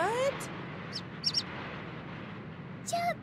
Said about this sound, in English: Well, hello, little bird.